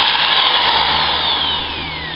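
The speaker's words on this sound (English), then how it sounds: "Get a 1/8 bit and drill completely through the product." A power drill with a 1/8 bit runs loud and close as it bores through a wooden crib frame, whining steadily before its pitch sags slightly toward the end.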